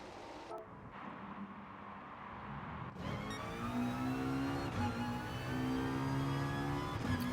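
A race car engine in GT Sport revs and pulls away from the pit lane. Its tone climbs in steady, rising harmonic sweeps at moderate loudness, with no voices.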